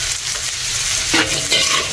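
Garlic and onion hit hot oil in a pan for sisig, a loud, close, continuous sizzle with stirring swells.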